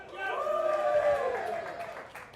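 A crowd at a high-stakes no-limit hold'em poker match cheers and makes noise for a player, a dense, sustained roar of voices that swells and then slowly fades.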